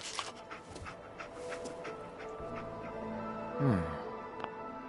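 Dogmeat, the German shepherd companion in the video game Fallout 4, pants softly and steadily, then gives a brief rising whimper near the end. Faint footsteps and game ambience sit around it.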